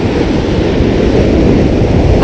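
Mediterranean sea waves wash against the coastline in a loud, continuous roar of surf, with wind buffeting the microphone throughout.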